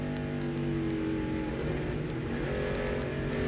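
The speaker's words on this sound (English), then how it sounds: "Playing with the throttle, you can hear him." A NASCAR Busch Series race car engine drones steadily at moderate distance as the throttle is worked, with faint blips and crowd-like broadband noise around it and no talk.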